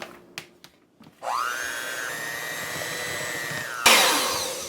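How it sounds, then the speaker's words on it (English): An electric hand mixer beats butter and cream cheese for keto pumpkin spice cookie frosting. It starts after a few clicks, rises to a steady, loud whine and runs continuously for a few seconds with no talking. "I'm going to use my hand mixer since the bowl of my large mixer has the rest of my cookie dough in it"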